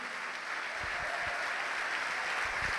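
A church congregation applauds at a sermon, a steady wash of many hands clapping at moderate distance, even and sustained with no voice on top.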